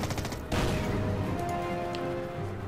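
Artillery fire in the wartime strategy game Order of Battle, with a loud barrage bursting in about half a second in and then rolling on as a dense, crackling rumble that slowly eases off.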